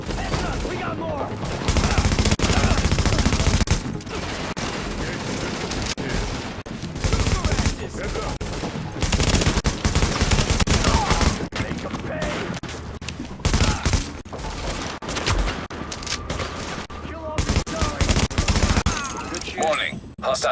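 Sustained gunfire from Tom Clancy's The Division, with dense automatic bursts and fusillades repeating across the whole stretch, loud and close, mixed with in-game voices calling out during a street firefight.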